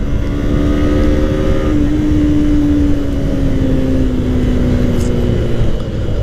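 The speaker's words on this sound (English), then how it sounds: "this also gets a dual port exhaust, and the sound is mellower than the regular Gixxer" A Suzuki Gixxer with a dual port exhaust revs and pulls through its gears, giving a mellow, buzzing engine note that climbs and then settles at a steady pitch, loud and close and without talk.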